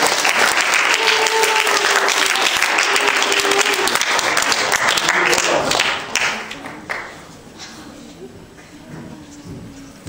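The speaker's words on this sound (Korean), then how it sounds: "우리 박수로 환영하겠습니다." A church congregation claps in welcome, a dense, steady wave of applause filling the room for about six seconds before it thins out and fades into quiet, with faint murmuring voices toward the end.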